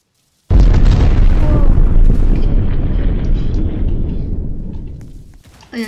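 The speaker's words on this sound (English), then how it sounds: "He has just an energy blast as well." Energy blast in the game Flash Earth Prime: a loud, sudden deep boom that erupts and rumbles with crackling texture, slowly fading over several seconds before a faint new burst at the end.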